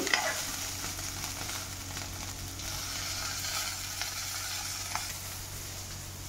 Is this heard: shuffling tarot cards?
no